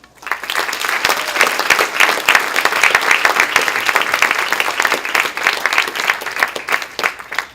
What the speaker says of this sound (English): Let's put our hands together, graduates, and give those people that I just mentioned a big round of applause